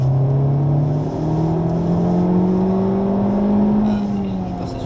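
A Honda Civic Type R accelerates on the Le Mans track, its engine note climbing steadily in pitch through a gear, loud and close inside the cabin with a constant roar of road and wind noise.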